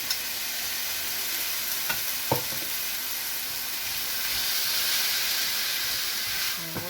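Tomatoes sautéing in a pan for chutney, a steady hissing sizzle with a few sharp spatula taps and scrapes, the frying swelling slightly louder toward the end.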